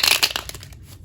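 A quick shuffle of a tarot deck: a close, papery riffle of rapid card flicks that starts loud and thins out over about a second.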